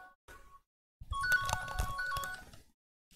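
A phone ringtone plays close by: a brief tone, then a warbling electronic melody lasting about two seconds before it cuts off, with no talking.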